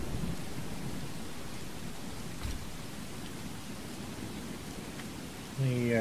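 Constant rain falls in the game Skyrim, a dense even wash with a faint low rumble, and a short tonal sound enters at the very end.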